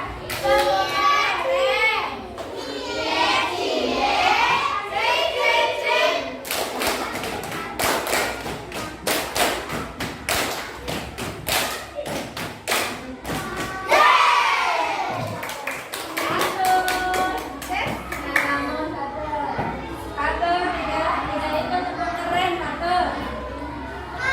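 A fourth-grade class of children at a school in Purwokerto claps hands together, loud rapid bursts of clapping in rhythmic patterns, with children's voices chanting and a teacher talking before and between the claps.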